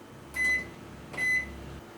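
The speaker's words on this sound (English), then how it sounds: "Microwave is on." A microwave oven running on power from an Eco-Worthy LiFePO4 battery through a faulty, problem-prone inverter: a steady low electrical hum with two short, clear beeps about a second apart, no voices.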